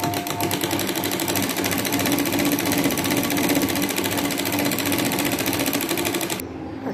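A sewing machine runs a fast, even stitch along a lined katori blouse, a close, steady mechanical chatter lasting several seconds before it stops abruptly.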